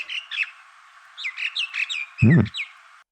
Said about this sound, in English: Oh, I know this one. Spotted dove.